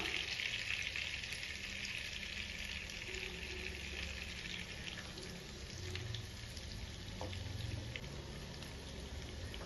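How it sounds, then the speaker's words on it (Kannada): Mutton keema vada fry gently in oil over a low flame, giving a soft, steady sizzle and fine crackling that runs evenly throughout at low volume, with no talk. "ಲೋ ಫ್ಲೇಮಲ್ಲಿ ಇಟ್ಕೊಂಡು ಇದನ್ನ ಚೆನ್ನಾಗಿ ಫ್ರೈ ಮಾಡ್ಕೋಬೇಕು."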